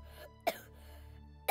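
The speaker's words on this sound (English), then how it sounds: "too much coughing" Two short, sharp coughs ring out about a second apart, fairly close and loud against quiet, tonal in-game background sound, with no talking.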